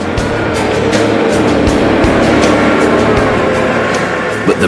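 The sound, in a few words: truck engines sliding on test track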